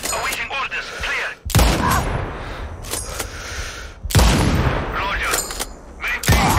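Gunfire in the video game Sniper Ghost Warrior Contracts 2, several loud, close booming shots with heavy rumbling tails and bursts of battle noise, while voices talk over the shooting.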